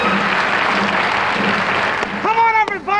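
An audience claps for the inventor of the twist, brisk applause under a man's raised, sung-like voice that rises over it near the end.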